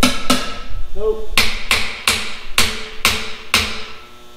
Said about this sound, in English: Let me get my little hammer. We'll tap on a few.